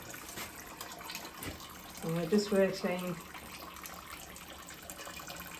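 Water keeps running from household plumbing pipes because the stop tap is not working, a steady gushing flow that swells briefly while a person talks over it.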